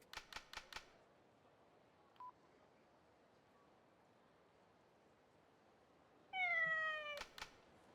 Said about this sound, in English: And then the cat will show up again.